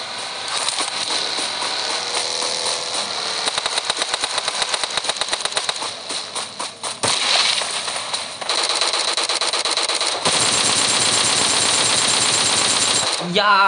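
Rapid automatic gunfire rattles through a PUBG Mobile match on the Erangel map, dense bursts that stutter and pause, cut with vehicle engine noise and loud, continuous.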